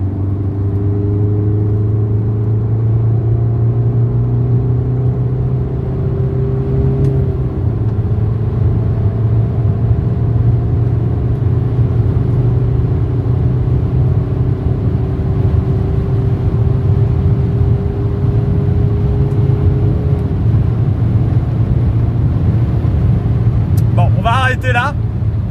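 A car on a circuit pulls from 100 km/h in fourth gear, its engine drone steady and rising slowly in pitch, loud and close, with someone talking over it throughout.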